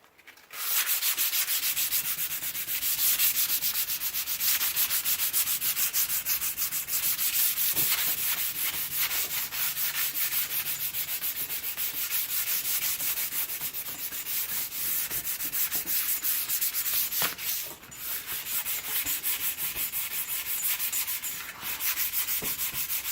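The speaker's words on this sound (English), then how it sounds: "Okay, we'll just start sanding." Steady, close abrasive sanding of a skateboard surface being prepped before repriming, a continuous rough rubbing hiss with a few brief sharper scrapes, running alone without talk.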